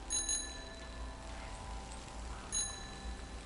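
Two bright metallic bicycle bell rings, one near the start and another a couple of seconds later, in the video game Season, over a steady low ambient hum.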